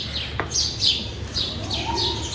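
Birds sitting inside a tree chirp repeatedly in quick, bright, high tweets, a steady run of calls fairly close and clear, with a lower whistled note near the end and no talking over them.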